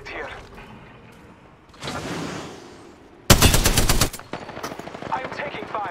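Gunfire in a shooter video game, a loud burst of rapid automatic shots after a softer whoosh, then scattered quieter shots, with brief talk around it.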